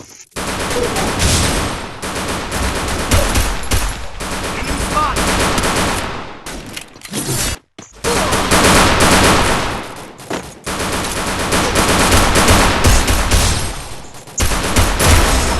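Shooter video game gunfire, loud and dense, with long sustained bursts of rapid shots separated by a few short gaps.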